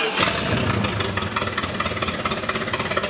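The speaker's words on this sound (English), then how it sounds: "Hold that RPM up higher, because act like you're driving." A car engine, in a high school engine-pull session, revs up and holds a steady loud drone with a fluttering pulse, as if climbing through gears, close and continuous throughout.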